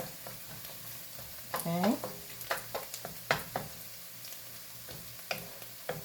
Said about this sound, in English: you want to make sure you move that around now during the 3 minutes of sauteing these onions so they don't burn